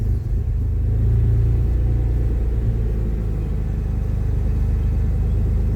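A supercharged Mitsubishi 3000GT engine idles after warming up, a steady deep rumble holding even and close for several seconds with no talk over it.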